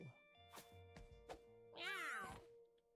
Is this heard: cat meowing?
yes